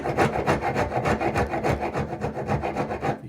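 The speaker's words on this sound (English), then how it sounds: "I've got a smaller half round rasp, so I'll just do the little bit in there." A half-round rasp files a wooden hammer handle in quick, steady back-and-forth strokes, a dry rhythmic scraping rasp that stays close and loud throughout with no talking.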